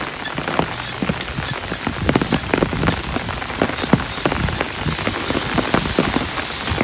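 Heavy storm rain patters densely on surfaces nearby, a constant close wash of drops with sharper individual splashes, growing slightly louder toward the end.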